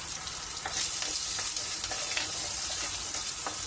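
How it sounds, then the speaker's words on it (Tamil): Shallots, garlic and green chili frying in a hot pan give a steady, loud sizzle with a bright hiss throughout and light crackles scattered across it, with no voices. "இப்போ வெங்காயம் போட்டுக்கலாம் சின்ன வெங்காயம் பூண்டு காரத்துக்கு வந்து பச்சை மிளகாய்"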